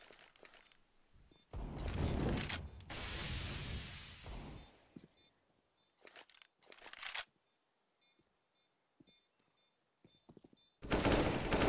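Rifle spray gunfire in a Counter-Strike match on the Inferno map comes as a sustained automatic burst near the start, then several shorter volleys and sharp pops, with a final loud burst at the end.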